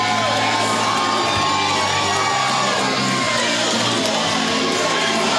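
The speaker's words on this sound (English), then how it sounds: "Crowd absolutely going nuts for him here." A packed pro wrestling crowd roars, cheers and whoops continuously at a Glory Pro Wrestling anniversary show as a wrestler enters the ring. The noise is loud and sustained, with shouts rising over a dense wall of crowd sound.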